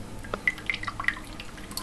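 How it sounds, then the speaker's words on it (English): Water dripping in a small pump project, a few faint, separate drops falling at uneven intervals over a quiet background hum. "And the water begins to drop again"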